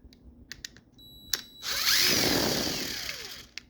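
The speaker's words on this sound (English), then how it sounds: "with the world's worst cordless impact driver that doesn't automatically break because it's a name brand" Cordless impact driver unscrewing a door lock actuator from a 2001–06 Sebring/Stratus or 2003–10 Ram, with a few short taps and clicks, then a loud sustained whirring run for about two seconds that tapers off.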